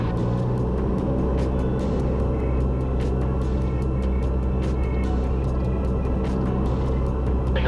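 Cessna 172 engine droning steadily on a landing approach, a loud constant low rumble and propeller hum from inside the cabin with small clicks on top, no talking.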